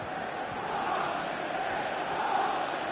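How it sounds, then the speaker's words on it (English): Loud roar of City fans in a football video game stadium, a dense, continuous crowd cheer urging the team forward, with no clear single voices. "Listen to how loud the crowd are, urging their team forward."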